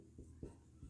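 Writing a number on a board during a maths class: three brief, soft strokes, quiet against a low background hum, with no talking.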